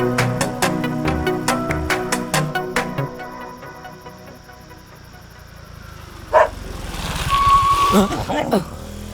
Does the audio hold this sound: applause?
no